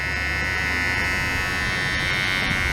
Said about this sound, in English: The trimmer is working now.